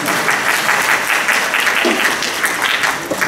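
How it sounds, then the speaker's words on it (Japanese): Loud, sustained applause from an audience at the closing assembly of a conference on reconciliation, with thick overlapping clapping throughout and a faint bit of murmuring underneath. "拍手を、盛大な拍手をありがとうございます。"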